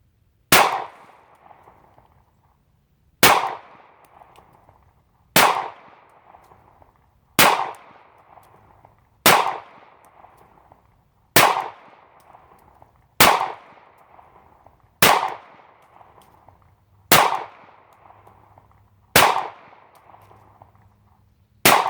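A Taurus PT111 Millennium G2 pistol fires about a dozen single shots at a steady pace roughly two seconds apart, each a sharp loud crack with a short echoing decay, with no talk.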